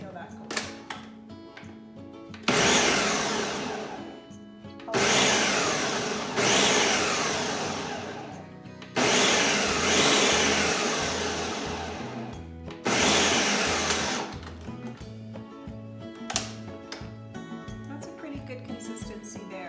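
Blender blending apples and oranges, running loud in several whirring bursts of a few seconds each, with quieter pauses and speech-like sounds between them.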